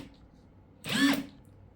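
A cordless impact wrench runs briefly in reverse and stops on its own, a short whirring burst that rises and falls in pitch against a quiet background.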